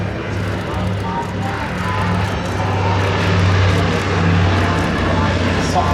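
A PBY Catalina seaplane flies past at an air show with its propeller engines droning, a loud and steady roar with a low hum. Someone talks over the engine noise the whole time.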